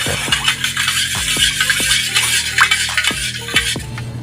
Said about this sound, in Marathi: आता हे सगळं साहित्य टाकून झालं आता सगळं मिक्स करायचं